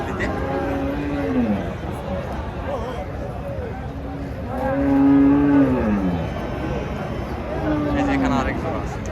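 Native bullocks low at a cattle market in Joypurhat, three drawn-out moos rising and falling over several seconds, fairly close, over a steady crowd murmur with people talking.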